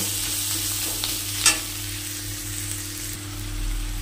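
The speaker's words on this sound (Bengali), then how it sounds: "এদিকে রসুন আদা বাটাটা দিয়ে দিলাম।" Ginger garlic paste frying with onions in a little oil, giving a steady close sizzle with one brief spatter burst, and no talk.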